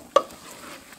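Pilau rice stirred in a pot after soy sauce is added, a single short scrape of the spoon followed by a soft, faint sizzle over low heat.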